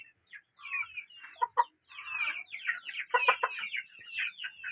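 Several chickens cluck steadily nearby around their coop, a busy mix of short, overlapping clucks and calls, with no other sounds.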